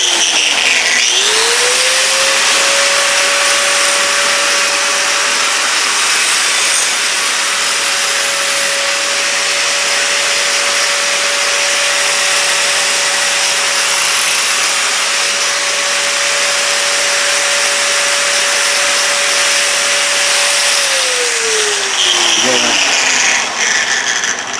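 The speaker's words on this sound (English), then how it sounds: "There's the obligatory edge softening." Power tool grinding to soften the edge of a 66-pound tool-steel anvil: a loud, close, sustained whine that spins up, holds steady for about twenty seconds, then winds down.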